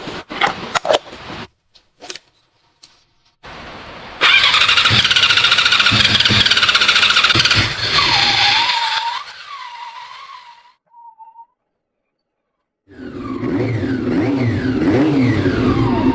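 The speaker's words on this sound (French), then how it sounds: "Nous allons bientôt redémarrer ce moteur 4 cylindres." A restored 1994 Honda CB400 four-cylinder motorcycle cranks with a few clicks, then catches and runs loud and close, revving before cutting off; after a brief silence the engine idles again with a steady throb.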